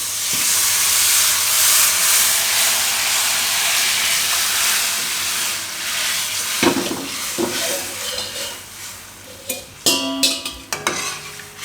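Chopped tomatoes hit hot spiced oil for tomato rice, a loud hissing sizzle that slowly fades, followed by scattered clinks and scrapes of a spoon stirring the pan.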